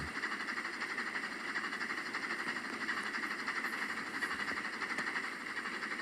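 A train locomotive labors up a grade in the Trains video game, with a steady, continuous rumble, rail noise and hiss that stays loud and even throughout, with no talking.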